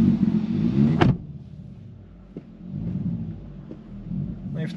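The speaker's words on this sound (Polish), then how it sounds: "Ładnie gada ten wydech." A 2023 Kia Ceed GT with a 1.6 T-GDI 204 hp engine and 7-speed dual-clutch gearbox revs loudly through its exhaust, then cuts off sharply and settles into a low, burbling idle rumble close by.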